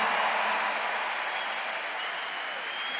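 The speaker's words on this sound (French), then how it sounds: "On applaudit Mike." A large audience in the Centre Bell arena applauds, producing a dense, even wash of clapping that holds steady for a few seconds at moderate distance with no talk over it.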